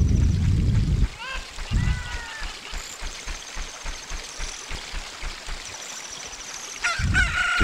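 Cucco chicken clucking in the Nintendo game Zelda: Ocarina of Time, with short squawking calls among game sound effects, a low rumbling background and busy steady game audio throughout.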